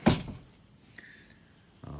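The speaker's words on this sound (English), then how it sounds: "The back door opens up." A camper trailer's back door is opened: a sharp close thump of the latch, then a faint creak and light rattles as it swings, ending with another soft knock.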